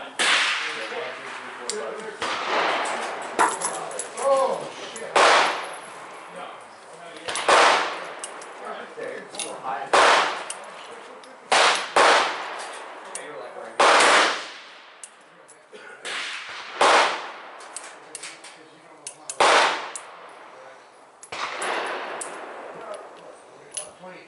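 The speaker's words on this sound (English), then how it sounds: "what we're going to be shooting first is the 262 grain Lee bullet loaded with HS6" Outdoor range fire from a .44 Special revolver loaded with 262 grain Lee bullets over HS6 powder, about a dozen sharp, loud reports spaced a second or two apart, with people talking quietly between shots.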